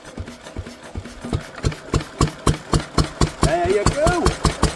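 Lister D stationary diesel engine with a freed-up sticky throttle, firing in slow, evenly spaced loud thumps that quicken into a steady chugging run, close by, with a voice speaking briefly over it.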